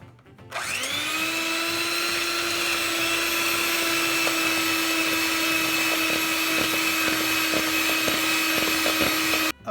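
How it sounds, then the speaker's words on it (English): An electric hand mixer whirs into a steady high motor whine as it beats egg whites for a coconut cake, running close and unbroken, with faint clicks of the beaters against the bowl before it cuts off at the end. "now with a mixer, I'm going to beat the egg whites to soft peaks."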